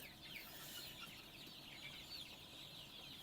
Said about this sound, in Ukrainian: Ось курчата дуже хороші, сильний імунітет.